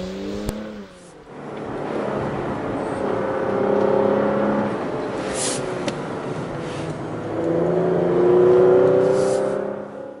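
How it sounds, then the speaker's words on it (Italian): Porsche Macan GTS engine roaring steadily as the car drives, rising and falling with revs and gear changes, close and loud with no talking. "il rombo offre emozioni che adesso vi lasciamo ascoltare"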